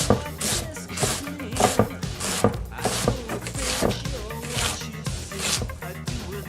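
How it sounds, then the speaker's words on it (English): A kitchen knife chops an onion into dice on a cutting board, a quick, close run of sharp repeated taps with uneven rhythm and short pauses. "Okay, done those cuts, then I cut through like this. Once that's done, chop."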